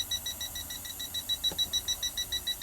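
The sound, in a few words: gas leak detector beeping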